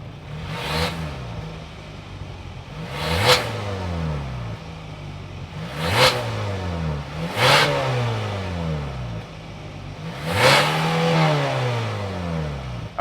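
Naturally aspirated 2.5-liter four-cylinder engine of a 2025 Hyundai Santa Cruz SEL Activity revving repeatedly from idle, five sharp blips rising and falling over a steady low idle, heard close by.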